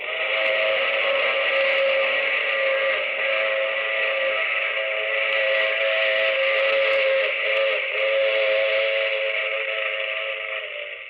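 A sustained train whistle blows steadily for several seconds, loud and unbroken, with faint rumbling beneath.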